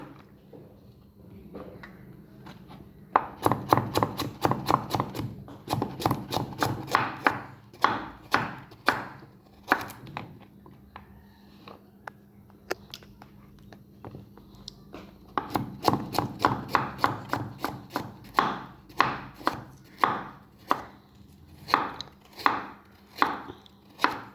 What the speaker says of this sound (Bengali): সবগুলো কেটে নিচ্ছি